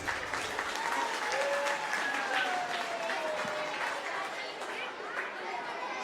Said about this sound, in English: Parents, please clap for students.